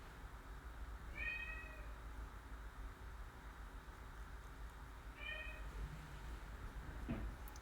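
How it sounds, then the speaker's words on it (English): A cat meows twice indoors, two drawn-out cries several seconds apart over a steady background hum, moderately distant, with a faint thump near the end. "Do you hear my cat?"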